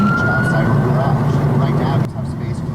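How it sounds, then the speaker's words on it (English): A police car siren sounds behind a driver's vehicle, a loud wailing tone over engine rumble that cuts off abruptly near the end. "his afternoon was suddenly interrupted by the sounds of police sirens"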